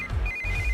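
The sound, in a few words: phone ringtone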